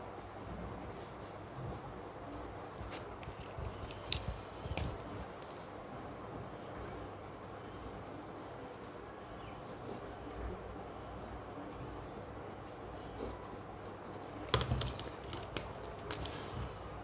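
Hero, Parker and Camlin fountain pens writing on paper, giving a faint, steady scratching of nib on paper with a few slightly louder strokes near the start and end, heard close up with no talking.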